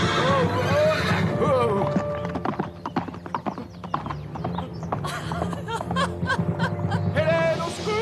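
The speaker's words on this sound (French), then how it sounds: "Si nous rattrapions la chasse, un peu de galop vous donnera meilleure mine." Horses gallop with rapid, loud clip-clop hoofbeats and repeated high neighing and whinnying in a cartoon period scene, with a brief exclamation from a voice over the hooves.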